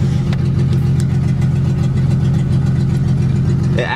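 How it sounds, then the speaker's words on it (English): A car engine idles after a cold start with a lumpy, lopey cammed-engine beat, a loud, close, steady low rumble pulsing evenly throughout, with a brief hiss near the end. "It sounds like I have cams in my car."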